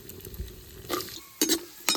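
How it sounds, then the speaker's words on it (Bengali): Raisins and cashews frying in a little white oil in a pan, with soft sizzling and several sharp spoon-against-pan clatters and stirs spaced through the moment. "এবার কিশমিশ দিয়ে দেবো।"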